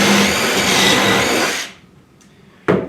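A power drill boring a hole through a wooden bookcase, a loud continuous whirring grind that winds down and stops after about a second and a half, then a brief restart burst.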